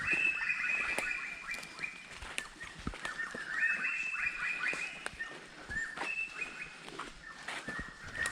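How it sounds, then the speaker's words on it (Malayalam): Repeated shrill, ringing bird calls in short phrases, a jungle myna chattering outdoors at moderate distance in forest, with faint background ambience. "ഈ കേൾക്കുന്നത് മൈനയുടെ സൗണ്ടാണ് ജംഗിൾ മൈന നല്ല ഒച്ചയാണ് ഇതിന്"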